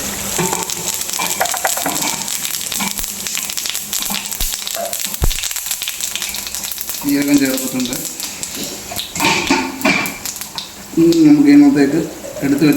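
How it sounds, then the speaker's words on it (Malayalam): Mustard seeds crackle and sizzle steadily in hot oil, being cooked for a Kerala-style roasted-coconut chicken curry, with close stirring noises and a voice talking over them at moments. "നമ്മൾ ഇതിനകത്തേക്ക് കടുക് ചേർക്കുവാണ് നമ്മൾ കടുക് ഇട്ടിട്ടുണ്ട്"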